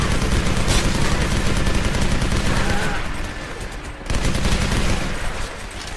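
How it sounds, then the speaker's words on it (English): Dense, loud bursts of rapid video-game gunfire fire almost without pause while support beams are shot down, briefly dropping off near the middle before resuming just as intense. "A lot of shooting down support beams."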